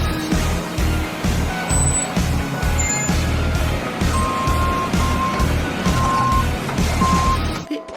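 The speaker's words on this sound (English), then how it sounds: "It sounds like a beeping noise. And it's with this bobcat." A bobcat loader in a cartoon scene gives off intermittent reversing beeps, a thin repeating tone heard faintly over a rumbling engine and busy background noise.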